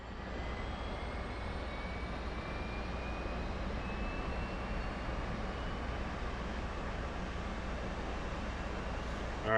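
A jet's auxiliary power unit runs during startup in a flight simulator game, a steady, continuous turbine whine and hum with a slowly rising tone, heard alone without speech.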